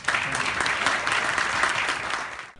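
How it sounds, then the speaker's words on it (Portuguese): Dense applause from an audience fills the room for a couple of seconds, steady and fairly loud, then cuts off. "peço uma salva de palmas a esta conselheira federal"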